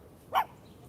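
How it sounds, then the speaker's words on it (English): A big dog lets out one short, fairly close bark over faint background noise. "That is a big dog."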